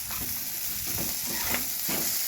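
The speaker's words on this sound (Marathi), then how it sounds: "टोमॅटो मऊ होतपर्यंत छान भाजून घेऊ" Onion, tomato, ginger, garlic and coconut fry in a pan for a homemade matar paneer gravy, giving a steady close sizzle with soft scraping stirs every half second or so, no talking.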